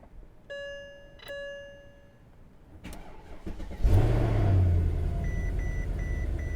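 A Mercedes S63 AMG chimes a few times, then its engine fires with a loud burst of revs that settles into a deep, steady idle close by.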